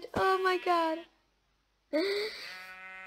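Two loud, close sheep bleats from Minecraft, each wavering for about a second with a brief pause between them, and a voice exclaiming over the first.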